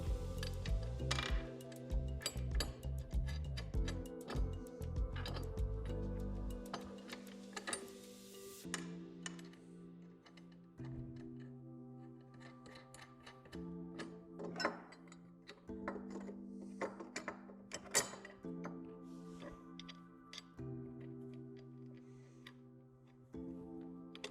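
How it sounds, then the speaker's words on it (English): Hand-tightened hardware on the backboard bracket of a Lifetime 54-inch Portable Power Lift basketball system, heard as sparse close metallic clicks and light clinks over a low steady tonal background, with no talking. "To make future steps easier, we're only going to finger tighten this hardware for now."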